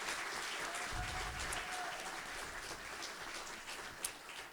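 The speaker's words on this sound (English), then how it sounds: "panelists a round of applause?" Audience at a Black writers' conference award ceremony applauds its three panelists, a steady wash of clapping sustained throughout with a faint murmur of voices underneath.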